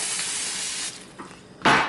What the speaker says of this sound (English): we're going to spray this with some cooking spray.